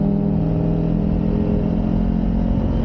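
A four-cylinder car engine revs hard and close, its loud buzzy drone holding steady across a few seconds with no talk over it.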